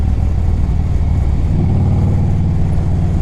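2007 Harley-Davidson Electra Glide Standard V-twin running through Reinhardt exhaust pipes, a loud, close, continuous low throb with a rhythmic lope that deepens as the engine pulls.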